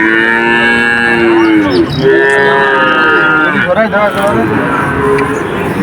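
Calves lowing at a cattle market in Jessore, several drawn-out moos overlapping nearby with crowd noise underneath.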